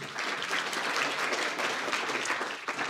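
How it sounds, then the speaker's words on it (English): An audience applauds to welcome a speaker, a steady wash of many hands clapping that carries evenly through the full three seconds at moderate loudness with no talk over it. "Give him a round of applause."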